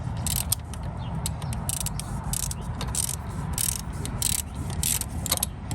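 A ratchet clicks in quick bursts while tightening the top alternator bolts on a Honda Accord, close and moderately loud, the rhythmic pawl strokes repeating in short runs.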